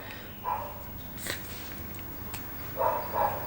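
A dog barks in short bursts somewhere indoors, a few faint, fairly distant yaps spaced out over a quiet background.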